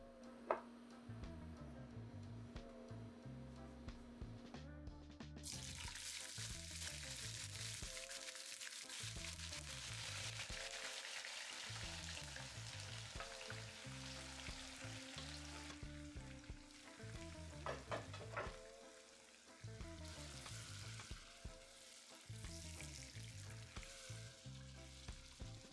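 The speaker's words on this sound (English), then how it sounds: "Now that the oil is hot, I'm going to add the vegetable and green seasoning." Chopped vegetables and green seasoning sizzle steadily in hot oil for Jamaican ackee and saltfish, a continuous close frying hiss with occasional stirring clicks, running alone without speech.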